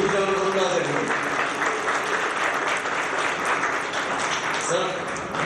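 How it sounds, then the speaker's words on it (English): A loud, continuous round of applause greets a guest called onto the stage at a talk on AI and careers; dense clapping fills the room, with voices heard over it near the start. "with a huge round of applause, everyone."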